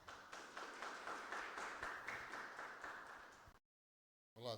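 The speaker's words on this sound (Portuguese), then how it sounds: "Uma salva de palmas." An audience at a regional accounting council's ICMS tax event gives a steady round of applause that stops abruptly, followed by a moment of silence before a voice begins speaking.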